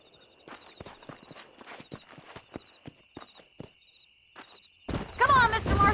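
Horse hooves clip-clop at a walking pace in the Red Dead Redemption video game, a dozen or so distinct clacks over a steady high tone, before a voice starts talking near the end.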